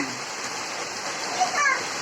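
Steady rain hisses outdoors as a constant wash of patter, with a brief voice breaking in near the end.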